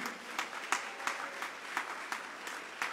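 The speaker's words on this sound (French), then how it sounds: "acclamez très fort le Seigneur pour lui" A church congregation at a Sunday worship service claps loudly and steadily, a dense wash of applause with a regular rhythmic pulse of beats running throughout, without talk.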